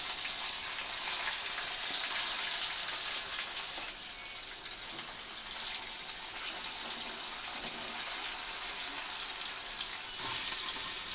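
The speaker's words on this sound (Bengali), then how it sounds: "এবার মাছগুলোকে ভেজে নিচ্ছি।" Pieces of rohu fish fry in hot oil with a steady, close, hissing sizzle that barely changes throughout, with no talking over it.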